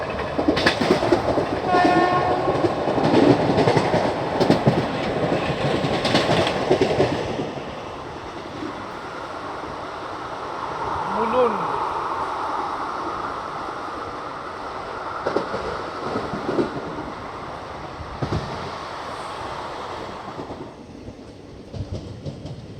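Express passenger train passing on the line toward Lokmanya Tilak Terminus near Mumbai, a loud rumble and clickety-clack of wagons that eases midway and then returns as rolling rail noise, with a brief horn-like tone in between.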